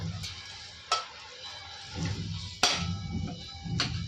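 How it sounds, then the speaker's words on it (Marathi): Peda is stirred into carrot halwa in a pan: a few scattered scraping strokes with soft sizzling between them, close and fairly quiet. "तो पेढा देखील ह्यामध्ये मी हलवून घेत आहे चांगला"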